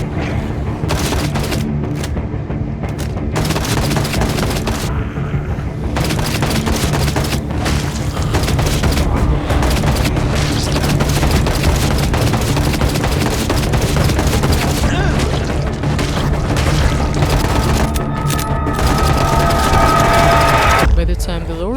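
Rapid gunfire and heavy booms in the zombie survival game Project Zomboid, with repeated loud shots and bursts continuing throughout under a narrating voice.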